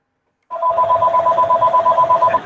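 A telephone rings during a recorded interview, with a loud, close electronic two-tone trill that pulses steadily for about two seconds after a silent start.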